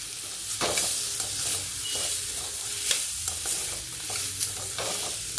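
Ingredients for tomato bath sauté in a pan, a soft continuous sizzle broken by sharp spoon scrapes and stirring clatters at irregular intervals, close by and without speech.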